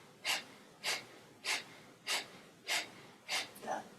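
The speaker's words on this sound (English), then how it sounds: "And then breath of fire." Breath of fire yoga breathing: six sharp, evenly spaced forceful nasal exhalations about every 0.6 seconds, close and clear with quiet pauses between.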